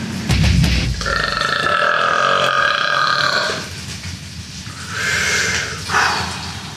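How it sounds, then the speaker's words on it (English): A long, loud, drawn-out burp after drinking PBR beer that rumbles and warbles for several seconds before trailing off, followed by a shorter burst. "That's a big belch."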